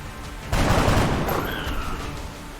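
Gunfire in the tactical strategy game XCOM: Enemy Within: one loud, sustained volley of shots erupts suddenly after a short pause, then trails off into a fading rumble.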